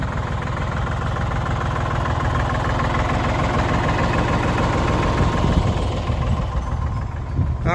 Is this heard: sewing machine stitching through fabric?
no